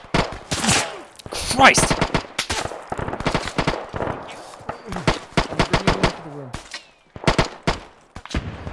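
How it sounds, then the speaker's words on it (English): Rapid machine gun bursts and single gunshots fire as covering fire in a World War II Belorussia combat game, loud close volleys in uneven rhythm with brief pauses, a voice speaking briefly between shots. "Covering fire."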